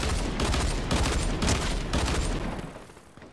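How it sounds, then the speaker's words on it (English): Rapid bursts of gunfire in the video game Fortnite, several volleys in quick succession at moderate volume, tapering off toward the end. "Those guns are pretty powerful."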